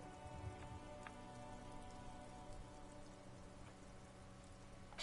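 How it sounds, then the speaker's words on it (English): Steady rain falls on a hard surface in a video game, a soft even hiss with scattered drops, quiet and constant throughout with no voices. "It's raining again."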